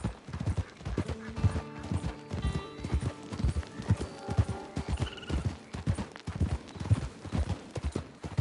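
Horse hooves clip-clopping in Red Dead Redemption 2, a steady, loud rhythmic trot of hoof strikes close by, with faint whinnies and game music in the background.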